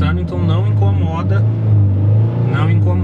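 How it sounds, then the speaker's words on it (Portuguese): A Ford Fusion with a new sport exhaust revs repeatedly, heard from inside the cabin with the windows closed, a deep, steady, husky engine drone under continuous talking. "Vou dar aquelas aceleradas lá, pra você ver como que é estando dentro do carro, com os vidros fechados."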